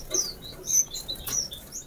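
Gouldian and diamond finches chirp inside a breeding aviary, with several short, high tweets and calls scattered and overlapping from different birds at close range, with no talk over them.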